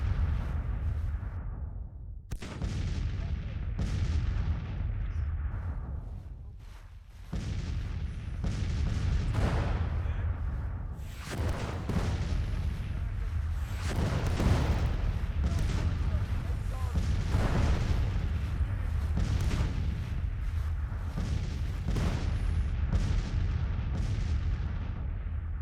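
Civil War artillery batteries fire in Grand Tactician: The Civil War, with repeated heavy cannon booms rolling out at irregular intervals over about 25 seconds, some near and sharp, others distant and rumbling, forming a steady bombardment.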